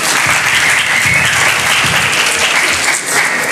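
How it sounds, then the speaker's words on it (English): Loud, steady applause from a sizable audience at a talk in a community center, continuous clapping throughout without a break. "Please, round of applause, guys."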